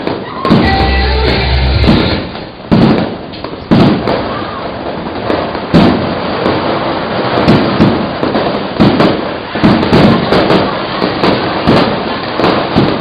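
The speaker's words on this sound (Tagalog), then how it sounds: "Ayan, ganda ng paputok yan. Panoorin mo na yung paputok." Fireworks and firecrackers exploding at a December party in 2013, a rapid string of loud sharp bangs and crackling pops close by, with people talking and exclaiming over the blasts.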